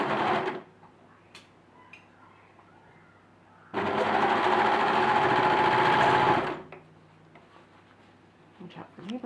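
A serger runs in one sustained burst of about three seconds while stitching a dress sleeve, loud, close and steady, with quieter handling sounds before and after.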